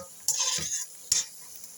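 A spoonful of flour roasts with crushed ingredients in a pan for ezogelin soup, heard as two short bursts of sizzling and spoon-stirring scrapes separated by a quiet gap.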